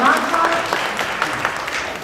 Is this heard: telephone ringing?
no